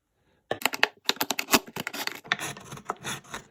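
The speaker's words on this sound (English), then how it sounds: "get your drinks bottle and cut the top and bottom off" A plastic drinks bottle being cut open with a blade or scissors, producing a close, dense run of crackling, crunching cuts and scrapes after a brief silence.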